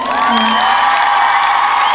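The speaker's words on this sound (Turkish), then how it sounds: "Hanımlar bir alkış yapın özünüze" Women in a Yozgat Akdağmadeni audience cheer and whoop loudly in a dense, sustained crowd roar with shrill voices, close and continuous.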